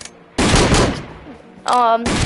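Gunfire from a Wild West Roblox video game: a loud broadband burst of shots lasting about half a second, then a brief tonal game effect, with no talk.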